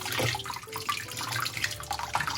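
Cold tap water runs and splashes over a heated glass bottle being cut, a steady close hiss of flowing water with faint drips and no talk.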